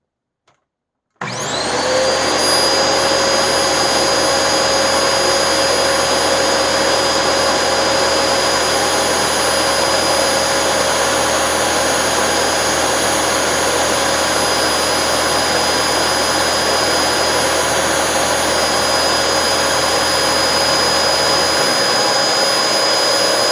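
A Dyson DC25 vacuum cleaner with its filters removed runs with the brush roll on. After a second of silence it switches on into a loud, steady roaring whine with a sharp tonal hum, which continues alone for over twenty seconds.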